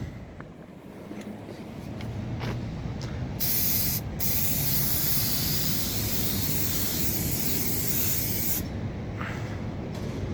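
An aerosol headlight coating product sprays onto a car headlight in a steady, loud hiss, broken by a few short bursts before one long continuous spray, close by.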